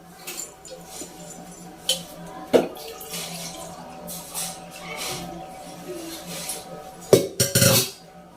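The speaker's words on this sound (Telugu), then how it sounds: "2 చెమ్ముల వాటర్ పోసానండి." Water is poured into a tall cooking pot for wheat rava upma, with running water, splashes and a few metallic clanks of the pot at close range.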